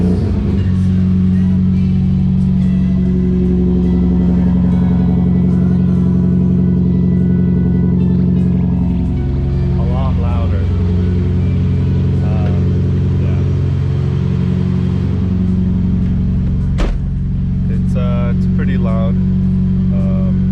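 Nissan 240 engine and exhaust fitted with a Nismo test pipe, a steady deep idle rumble with a low droning tone throughout, close and fairly loud, with a few brief voice fragments and a sharp knock near the end.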